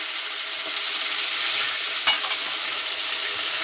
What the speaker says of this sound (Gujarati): હવે નાખી દેવાના છે ટમેટા